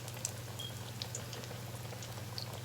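Buttermilk apple fritters fry in an old home deep fryer, a soft, steady bubbling sizzle with scattered small pops and crackles, heard at low level and close by without talk.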